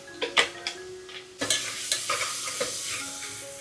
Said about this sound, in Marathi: कांदा पण मस्त शिजून घेऊया आपण